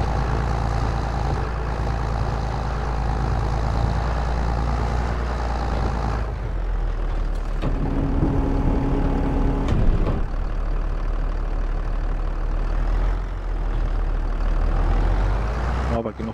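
A tractor engine in the Farming Simulator 22 video game drones loudly and steadily, a low idling rumble that shifts in tone midway with a brief hiss, with no talking over it.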